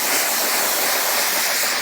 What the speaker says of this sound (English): You can see that water behavior really sliding off the paint.